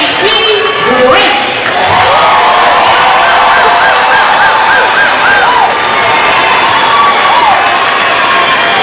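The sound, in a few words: audience applause and cheering at commencement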